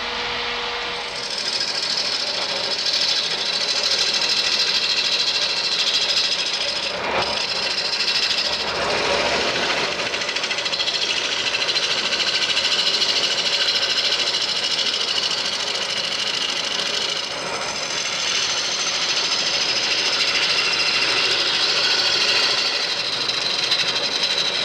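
A wood lathe rough turns a green maple bowl at roughly 600 to 700 rpm, giving a steady, loud whirring drone with gouge hiss and scraping that runs continuously throughout, with no talk.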